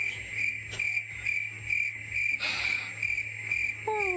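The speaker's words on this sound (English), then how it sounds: "I might find some crickets on here. First round of crickets." Crickets chirp in a steady, continuous high trill, with a few brief extra accents, and no voices are heard.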